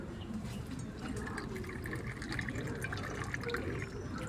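Water pours steadily into a container with a continuous splashing, gurgling flow, fairly soft and close, with no talking.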